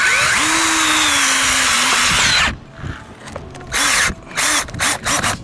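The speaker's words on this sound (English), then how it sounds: "Sometimes you hit something hard and you gotta stop drilling and just pull it up." A power drill bores into yard soil, running loud and steady for a couple of seconds, then stopping and firing again in short bursts.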